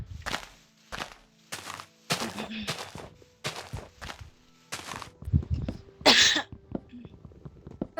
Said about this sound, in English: I'm sorry for like coughing.